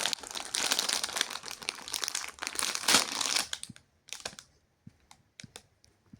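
Plastic packaging around a Labubu toy crinkles and tears in a dense, busy burst of rustling, then breaks into scattered separate crackles and rips as the wrapping comes off, close by with no talk.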